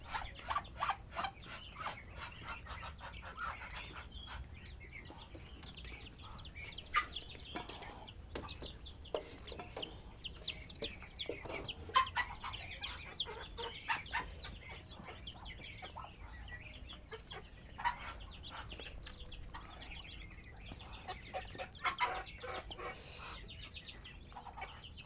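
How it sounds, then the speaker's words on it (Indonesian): A mother bird searching for her newly hatched Muscovy ducklings near a bamboo pen calls over and over in faint, repeated clucks, with other fowl sounding softly in the background. "untuk beberapa hari indukannya itu bakalan bunyi terus ya teman-teman, berhubung mencari anakan entoknya ini ya"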